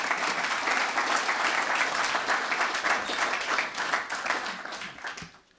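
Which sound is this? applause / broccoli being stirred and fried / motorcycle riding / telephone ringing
applause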